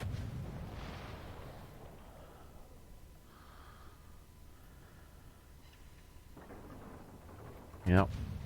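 Soviet naval shells firing and striking in a warship battle game, a soft distant boom early on and a sharp loud crack near the end, over low engine ambience.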